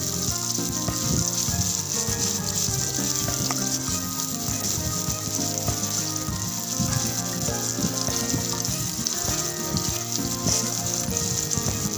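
Three medium chopped onions fry in a pan with a dense, continuous sizzle, loud and close, with no talk over it.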